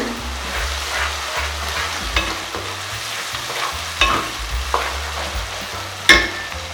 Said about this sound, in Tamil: இப்போ நம்ம அரைச்சி வச்சு தக்காளியை இதில் ஊற்றலாம்.